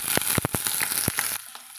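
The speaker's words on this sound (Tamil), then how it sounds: "சேர்த்திட்டு நம்ம வதக்கலாங்க" Chopped onions and curry leaves sauté in hot oil in a pan for a raw mango kuzhambu, giving a dense, close sizzle broken by quick scraping strokes of a stirring spoon before it eases off.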